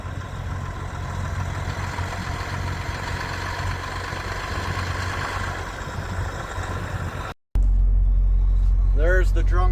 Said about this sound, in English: I'm gonna let the truck finish warming up